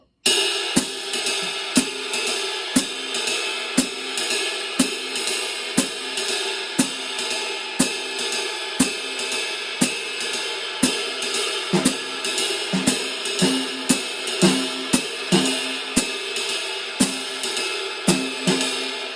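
Steady cymbal strikes ring in a lilting swing rhythm, sharp taps recurring evenly over a continuous metallic wash, played alone.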